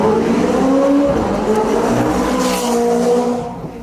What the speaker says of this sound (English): My favorite part about the McLaren has to be the new sound. It sounds so intense.